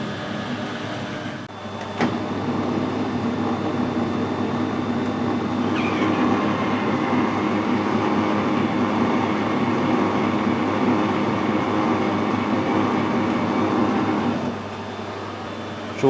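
A metal lathe screw-cutting a thread into a cheap plastic workpiece, a steady machine drone with a faint whine running close and continuous for about twelve seconds before it drops back quieter.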